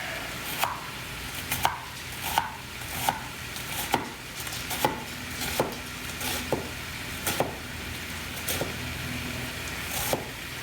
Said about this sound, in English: Okay, we'll let that chop.